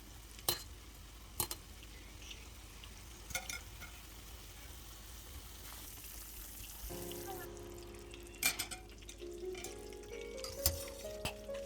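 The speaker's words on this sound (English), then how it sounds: "Let's boil them and cook for about 2 minutes." Broccoli blanching in a pot of boiling water, a steady bubbling hiss with a few sharp clinks and knocks of a utensil against the pot, close and moderately loud throughout.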